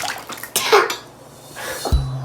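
A hand slaps down twice onto a bowl of oobleck made from cornstarch and water, each hit a dull, wet smack, the second heavier, with quiet room noise between.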